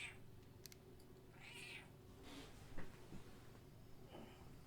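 A pet cat meows a few times, soft and somewhat distant, over a steady low room hum with small knocks; no one talks.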